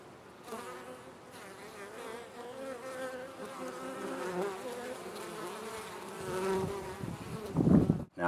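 Dense swarm of honey bees buzzing steadily at a beehive entrance shaped like a knot hole in a bee tree, a close, continuous drone that swells louder near the end.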